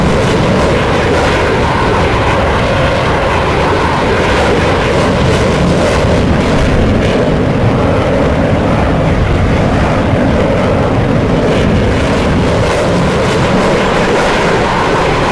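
The F-104 Starfighter's afterburner roars in a flight simulator game, a loud, continuous broadband rumble holding for the whole stretch with no voices over it.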